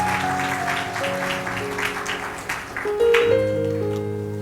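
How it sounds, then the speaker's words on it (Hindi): A congregation claps in steady rhythm during a Hindi-language Christian sermon on Genesis, the claps ringing out over sustained keyboard chords that run throughout. "तालियां बजा करके एक बार।"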